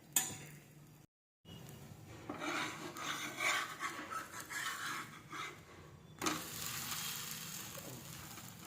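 Half a spoon of oil crackles and sizzles steadily as fermented mudakathan keerai dosa batter fries on a hot pan, a continuous close hiss with a brief gap early on.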